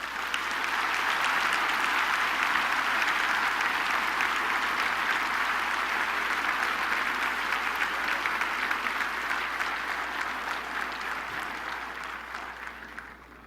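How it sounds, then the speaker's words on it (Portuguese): Loud, dense applause from a large church congregation during a sermon, a steady wash of many hands that holds for about thirteen seconds before tapering off near the end. "Você pode dar ao Senhor um forte aplauso"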